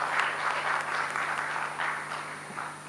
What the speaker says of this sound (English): Another round of applause for our moderator, Ms. Wen.